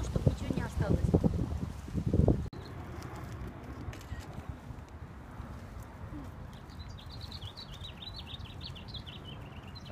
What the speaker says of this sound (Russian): а там смотри, какой конь этот